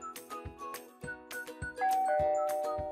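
A SkyBell smart video doorbell sounds its chime as a visitor presses the button, ringing as a repeated series of clear electronic tones followed by a sustained ringing note.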